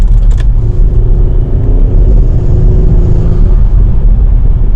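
Interior of an Audi B9 SQ5 with 034 Motorsport upgrades under acceleration with windows up: a heavy, loud engine rumble with a rising whine over it, steady throughout and free of talk.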